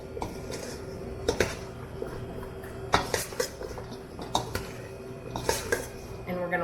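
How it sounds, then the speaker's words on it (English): A utensil stirs vegetables coated in olive oil in a bowl, making an irregular series of close clinks and scrapes against the bowl over a light background hum. "And then we're going to give that a stir."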